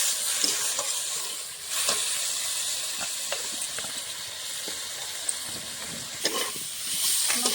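Ginger, green chilli, cumin and coriander paste sizzling with fried potatoes in a pan, a steady frying hiss broken by the scrape and knock of stirring, close and fairly quiet.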